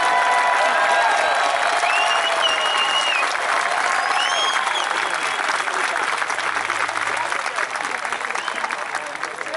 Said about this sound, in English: a round of applause for our future